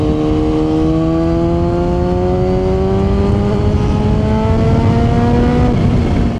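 A Kawasaki ZH2 supercharged naked motorcycle engine runs steadily and loudly, its pitch rising slowly through the whole stretch as it pulls under load, with no talking.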